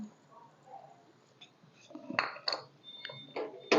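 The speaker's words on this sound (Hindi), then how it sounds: "अब इसके अंदर ये शिमला मिर्च और सब्ज़ मिर्च ये डाल रही हूँ" Bell pepper and green chillies tumble into a pot of tinday gosht curry, with close metallic clinks and scraping of a spoon against the pot in short bursts.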